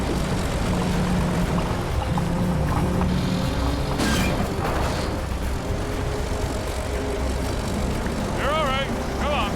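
A D9 bulldozer's 140,000-pound-capacity winch hauling on a 1.5-inch cable under throttle during a heavy highway recovery: a steady, loud, deep engine drone throughout, with people talking over it.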